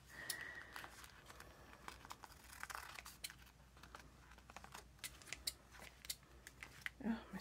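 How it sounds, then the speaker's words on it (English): Scissors snipping through tissue paper for a magazine art journal, a series of quick dry cuts with crinkling paper, close and fairly quiet, broken by brief talk. "my scissors are getting sticky already"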